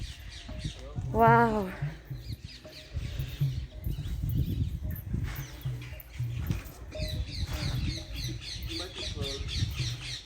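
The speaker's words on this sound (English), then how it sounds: "Do you hear all those parrots?" A flock of parrots squawks and chatters continuously in the background on a Braj pilgrimage walk, with one sharp, loud call standing out near the start, while a person briefly speaks nearby.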